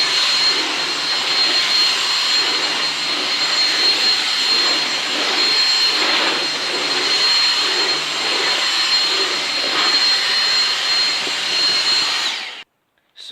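A Dyson V6 cordless stick vacuum with its direct-drive carpet cleaner head runs nearby in a loud, steady, high-pitched whine, droning evenly for about twelve seconds before it abruptly cuts off.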